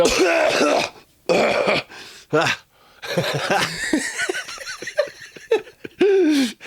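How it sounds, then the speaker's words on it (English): Someone groans and clears their throat loudly and close by, mixed with laughter and short bursts of talking. "I had to clear my throat."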